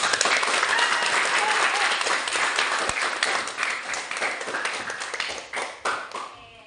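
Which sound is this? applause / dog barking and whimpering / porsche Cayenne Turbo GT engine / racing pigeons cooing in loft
applause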